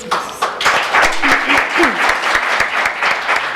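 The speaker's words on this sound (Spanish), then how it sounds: "fuerte el aplauso" A lecture audience applauds after a research presentation at a Mexican academic panel on national issues, dense sustained clapping from many hands, loud and even throughout, with a voice briefly heard over it.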